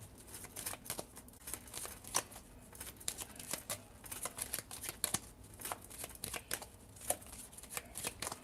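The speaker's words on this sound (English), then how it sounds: "I keep shuffling the cards" Tarot cards are shuffled over and over in a quiet room, making a steady stream of soft riffling and flicking bursts at close range, with no talking.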